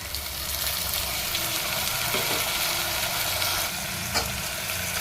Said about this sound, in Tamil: நல்லா வதக்கி விட்டுக்கலாம் எண்ணெயில்